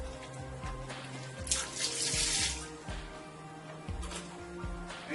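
A natural wig is dipped into water during washing, producing steady splashing and sloshing with a running-water wash, close by and moderately loud.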